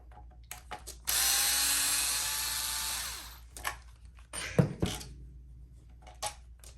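Screws being backed out of the rear bumper of a Traxxas Rustler 4X4 VXL RC truck: a steady whirring drive burst for about two seconds, followed by short clicks and clatter as the parts are handled nearby.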